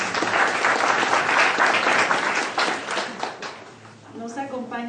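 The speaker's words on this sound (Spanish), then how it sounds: "para quien le pedimos un aplauso" A university-lecture audience gives a round of applause, dense clapping from many people that gradually thins and fades, then a voice begins speaking as it dies away.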